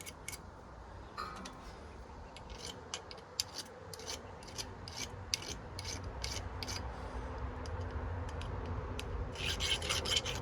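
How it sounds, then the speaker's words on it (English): A chainsaw file rasps in quick repeated strokes against a sawmill part, cleaning off crud in a steady close scraping rhythm that grows busier toward the end, with no talk. "use this chainsaw file"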